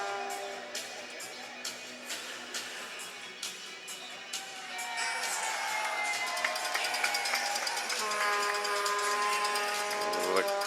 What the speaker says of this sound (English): The crowd sort of sarcastically applauding the timekeepers for getting the 4 minutes up on the clock.